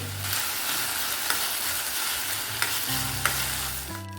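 Tomato dal masala sautéed in a pan makes a steady, loud sizzle, with a few sharp scrapes and taps of a stirring spoon against the pan.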